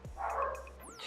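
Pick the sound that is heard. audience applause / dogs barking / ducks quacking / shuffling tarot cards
dogs barking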